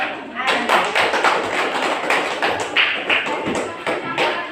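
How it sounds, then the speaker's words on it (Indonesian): A classroom of students applauding, a dense, steady patter of many hands clapping for several seconds, moderately loud and close. "Kita baru berikan aplaus untuk Ani"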